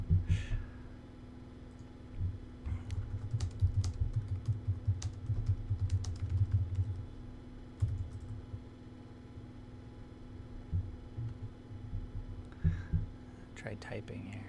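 Close clicking of typing on a computer keyboard in quick uneven bursts, over a low steady hum, with a few pauses.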